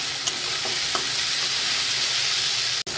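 Ginger, garlic and chili paste masala is frying in a pan, giving a steady, even sizzle with a few light stirring taps and one sharp knock near the end.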